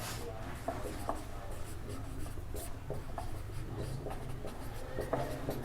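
Chalk or pen scratches steadily on a board or paper during a maths lesson, soft irregular strokes close by over a low constant background hum.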